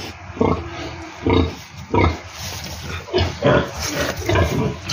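A sow on a pig farm, due to give birth, grunts and snorts close by in a string of low, rough bursts.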